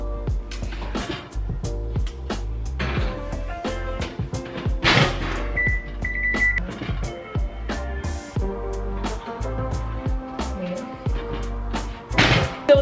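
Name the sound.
putting donuts into the oven, oven door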